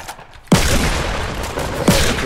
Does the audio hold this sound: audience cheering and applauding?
no